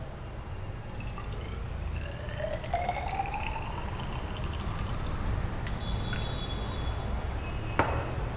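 Distilled water, about 100 ml, poured into a measuring cylinder during a school chemistry starch sol preparation, giving a soft steady trickle and splash with faint drips, close and continuous.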